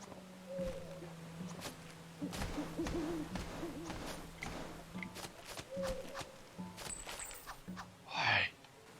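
In the video game 8Doors: Arum's Afterlife Adventure, short hooting bird cries sound several times, spread across the clip among soft game effects and footsteps, ending with a louder burst.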